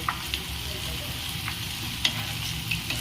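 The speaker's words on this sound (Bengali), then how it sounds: "এবার আমি আলুগুলোকে উল্টে নেব, তাতে সব পাশ যাতে করে ভালোভাবে ভাজা হয়।" Potato pieces fry in oil in a pan, giving a continuous crackling sizzle with a few soft clicks and scrapes from turning them; no one speaks.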